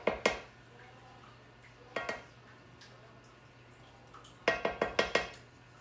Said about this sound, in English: Let's take our little spatula, get some of that off of the big one.